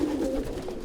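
A pigeon in a loft gives a short, soft, low coo, close by and alone, lasting under a second.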